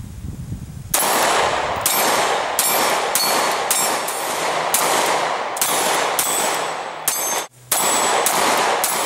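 A semi-automatic pistol with a refinished electroless nickel boron slide fires a string of loud, sharp, close shots at an irregular steady pace, with one brief pause near the end.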